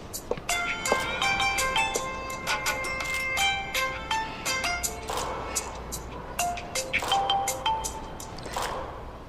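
An incoming call sets off a mobile phone ringtone, a bright electronic melody of short repeating notes that plays continuously and fairly clearly over faint room noise.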